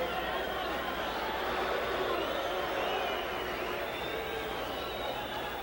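A boxing crowd at a heavyweight bout, Muhammad Ali against Floyd Patterson, keeps up a dense, steady roar of shouting and chatter throughout, with no clear single voice on top.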